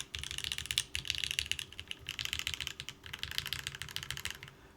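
Keys on a compact ergonomic keyboard are pressed in quick irregular bursts, giving crisp close clicks and clacks with brief pauses between flurries, quiet and alone without talk.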